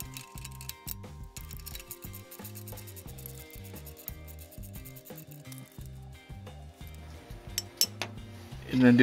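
Close metallic clinking and scraping as a 13mm socket and an open wrench work loose brake caliper bolts, with irregular taps and rattles and a sharper clatter near the end.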